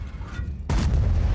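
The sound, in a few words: tank cannon shot in video game World of Tanks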